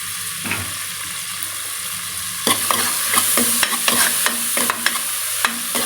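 Tomatoes tip into a hot pan for jowar roti upma and sizzle as a spoon scrapes and stirs in repeated sharp clicks over a steady frying hiss, close and fairly loud with no voices.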